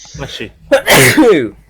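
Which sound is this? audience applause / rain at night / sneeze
sneeze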